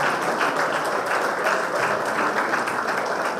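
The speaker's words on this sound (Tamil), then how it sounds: "உங்களுடைய பலத்த கரகோஷத்தோடு கைதட்டலோடு" An award ceremony audience applauds strongly as a prize is presented at an educational trust event, a thick, continuous wash of clapping held at steady loudness throughout.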